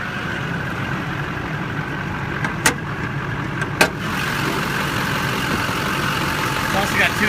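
A 2005 Chevy Silverado diesel crane truck with 184,585 miles idles with a steady, close engine rumble, marked by two sharp clicks early on, while someone talks over it.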